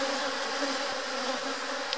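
A steady, dense drone of many honeybees fills the air close by as frames are slid apart during a hive split, continuous and unbroken with no voices.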